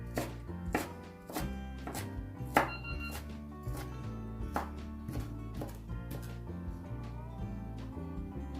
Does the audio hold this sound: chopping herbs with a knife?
yes